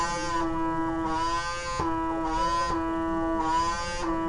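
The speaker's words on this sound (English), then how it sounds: "And you'll hear the suction, which makes you realise when you've actually got it working the way it should be." A PMD microdermabrasion device draws suction against facial skin, giving a steady electric buzzing hum whose pitch dips and rises in a regular pulsing pattern as the wand moves, close and continuous.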